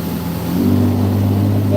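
A speedboat cruising on a river has its engine throttled up, a steady mid-pitched drone that rises and settles into a stronger tone partway through, close and fairly loud.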